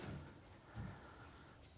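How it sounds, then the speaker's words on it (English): A slide-out drawer in a pickup truck bed pulled open, giving two soft, low thuds of the sliding mechanism, faint and close, with no talking. "So this drawer pulls all the way out."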